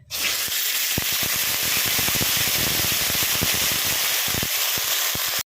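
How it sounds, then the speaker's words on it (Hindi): Moringa drumsticks lightly frying in hot mustard oil in a kadai, a steady loud hiss and sizzle with scattered crackles and pops throughout, no voices. "अब हम सहजन को हल्का सा फ्राई करेंगे।"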